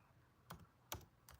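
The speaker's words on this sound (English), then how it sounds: "Let's type Fernando Mendoza." A few separate keystrokes on a computer keyboard, three sharp clicks spaced about half a second apart over a quiet background.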